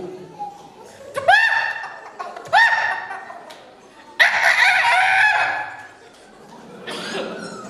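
A person mimics a rooster crowing several times, with rising, strained cock-a-doodle calls, the last one long and drawn out.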